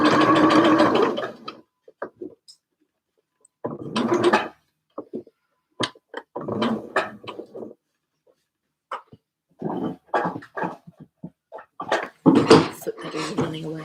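A sewing machine stitching a dress seam whirs in short intermittent bursts, close by, alternating with a person talking.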